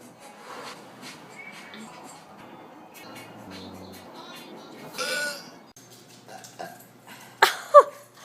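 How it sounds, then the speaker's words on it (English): Burps come in short bursts amid faint shuffling and quiet handling noises in a quiet room, with two louder sharp eructations near the end and a muffled voice in between. "Burping."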